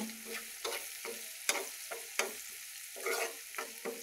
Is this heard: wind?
no